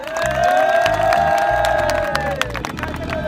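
An audience at a televised quiz breaks into loud applause and cheering for a correct answer, with dense clapping, whoops and a sustained crowd shout, plus some children's voices.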